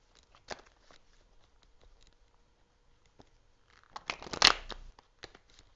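Tarot cards being shuffled by hand, a run of soft papery riffles and taps at close range, building to a louder flurry near the end, with no talk.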